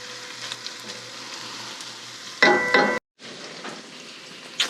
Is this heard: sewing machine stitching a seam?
no